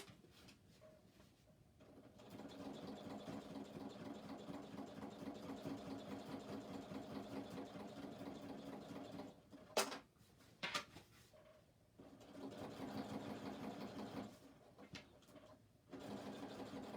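A sewing machine stitches a criss cross shoulder bag in long steady runs of rapid mechanical whirring, broken by brief pauses and a few sharp clicks near the middle, fairly quiet and close with no talking.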